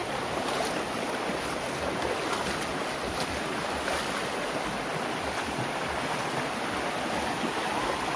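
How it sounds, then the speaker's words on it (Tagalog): A river current in Sta. Cruz, Murcia, Negros Occidental rushes steadily and fairly loud, a broad continuous wash of flowing water with no pauses and no voices. "Bakas kasi yung current ng tubig eh"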